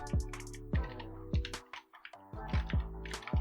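Rapid, evenly spaced taps on the F key of a computer keyboard while playing PUBG Mobile on the Gameloop emulator. About seven sharp, close clicks, each followed by a short ringing in-game tone, with no talking.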